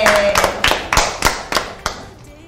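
Children at a kids club clap for a girl in a short run of about seven loud, distinct claps that slow a little and trail off, close to the listener.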